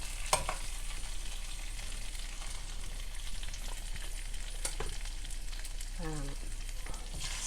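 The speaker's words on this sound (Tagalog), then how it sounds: "Kaya iprito naman natin ang iba." Chicken pieces frying skin-side down in a hot pan give a steady, dense sizzle and crackle throughout, with a brief voice speaking over it near the end.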